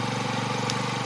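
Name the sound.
Honda PCX 160 scooter engine running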